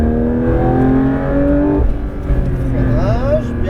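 A Porsche 992 GT3 RS accelerating out of a corner on a track, its engine note climbing, dipping at a gear change, then rising again, loud and close, with an instructor talking over it.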